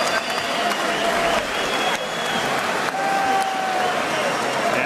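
A sellout boxing crowd fills the arena with dense, sustained applause and cheering after Ricky Hatton wins the IBF junior welterweight title, loud and continuous throughout, with an announcer's voice faintly mixed in.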